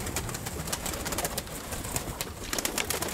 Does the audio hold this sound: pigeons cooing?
yes